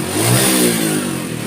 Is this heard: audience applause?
no